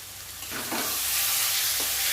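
A spice paste with a splash of water fries and is stirred in a pan: a steady close sizzling hiss with a few brief bursts of scraping, no talking.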